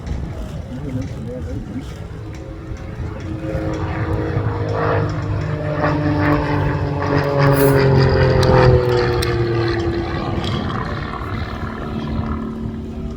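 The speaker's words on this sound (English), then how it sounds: "Bob will now enter the final section of the display with an oblique loop and a half Cuban." A propeller aircraft flying an aerobatic display at an air festival, its engine droning steadily from mid-distance and swelling slightly as it passes, under a public-address commentator's voice.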